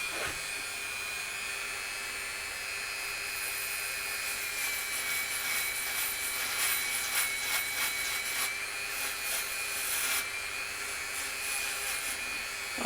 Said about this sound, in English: let's give the Dremel a blast, see if it does any good